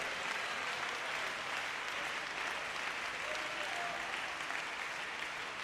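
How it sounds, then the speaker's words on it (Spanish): Steady, sustained applause fills a church as the congregation claps together during a service, even and unbroken throughout. "¿Por qué no lo aplaudes a Él y lo glorificas a Él?"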